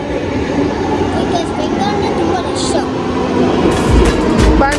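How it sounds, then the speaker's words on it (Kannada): A Bangalore Namma Metro train arrives at a station with a steady loud rumble and hiss that swells toward the end, while people chat nearby. "ಬಂತು ನಮ್ಮ ಮೆಟ್ರೋ"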